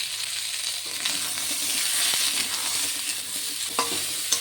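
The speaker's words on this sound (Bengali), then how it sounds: "লাস্টে আমি সজনের ডাঁটাটাকেও ভেজে" Drumstick (sajna) stalks frying in oil in a kadai while being stirred, a continuous bright sizzle with scraping stir strokes and a couple of small clatters near the end.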